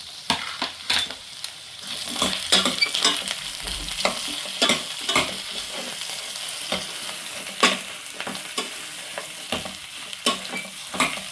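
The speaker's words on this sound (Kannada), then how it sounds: "ಎರಡು ನಿಮಿಷ ಇದನ್ನು ಫ್ರೈ ಮಾಡ್ಕೊಳ್ಳೋಣ ಎಣ್ಣೆಯಲ್ಲಿ." Ridge gourd pieces fry in oil for a sambar, giving a bright continuous sizzle broken by frequent scraping and clattering stirs of a spatula against the pan, close and fairly loud.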